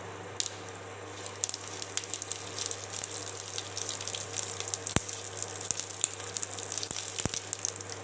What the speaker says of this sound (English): First put some oil in a kadai and make it to boil. Then add the seasoning materials, mustard, red chili and curry leaves.